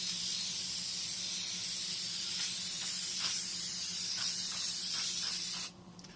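Steady close hiss of oil sprayed from a can onto a K&N air filter for a Dodge Charger during recharging, continuous for several seconds before cutting off near the end, with a few faint taps in between.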